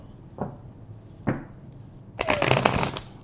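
Tarot cards being shuffled: two soft isolated taps, then a dense riffling burst of cards about a second long, close and fairly clear over a quiet room.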